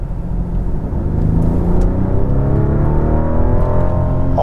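A widebody Rolls-Royce Wraith Black Badge, rated at 717 hp, accelerates hard, heard from inside the cabin as a deep, rising engine rumble and whir that grows steadily louder with climbing pitch over several seconds.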